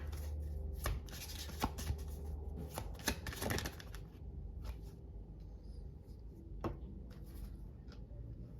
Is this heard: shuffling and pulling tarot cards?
yes